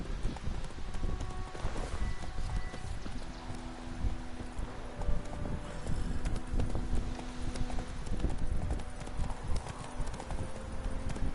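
Steady clip-clop of hooves from Geralt's horse Roach in The Witcher 3, a continuous galloping rhythm close by, mixed with game ambience and a brief whinny-like cue.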